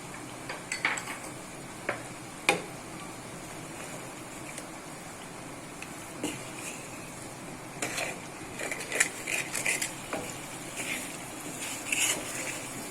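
Masala of red chilli, turmeric and garam masala cooking in a pan for chicken biryani, a steady low sizzle under scattered clinks and scrapes of a stirring spoon against the pan.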